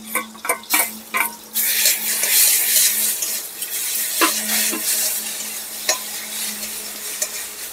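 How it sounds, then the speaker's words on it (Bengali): Taro leaves frying in a pan with ginger and cumin paste are stirred briskly, with a few sharp scraping strokes at first, then a steady loud sizzle broken by occasional clinks of the utensil. "আদা বাটা জিরে বাটা দিয়ে একটু নেড়ে চেড়ে নিলাম খুব ভালো করে"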